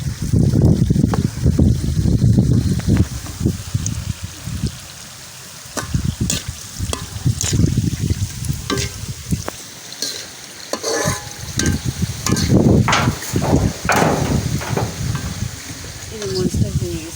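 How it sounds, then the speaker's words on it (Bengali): Dried red chillies frying in oil, an uneven crackling sizzle with loud stirring scrapes and clatters from a spatula in the pan, close up and busy throughout. "এখানে কয়েকটা শুকনো মরিচ ভেজে নিলাম"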